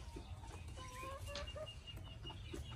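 Backyard poultry including guinea fowl, hens and a rooster, with soft scattered clucks and short calls at a distance, faint against a low rumbling background.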